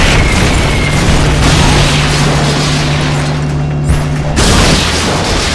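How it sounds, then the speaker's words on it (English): Artillery supporting fire in Metal Gear Solid Peace Walker, heard as loud, dense booming explosions with a continuous rumbling roar and a sharp burst near the end. "They've okayed the request for supporting fire. It should commence any second now."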